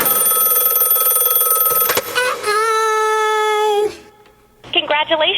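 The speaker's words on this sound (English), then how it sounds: "Pick up the phone." An old-style telephone bell rings loudly and continuously in a played prank call recording, then switches to a different electronic ring tone before a short pause and a voice.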